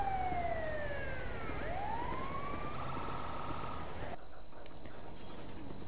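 An ambulance siren in a video game wails with falling and rising sweeps over a constant background drone, then cuts off abruptly partway through.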